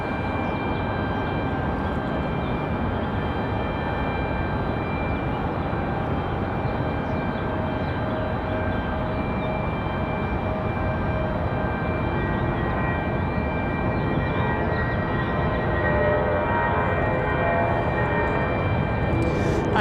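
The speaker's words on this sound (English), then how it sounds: "Nice sounding departure out of the A320." An Airbus A320 departs from Raleigh-Durham International, its engines a loud, sustained broadband roar with steady tonal whine running throughout, swelling slightly toward the end.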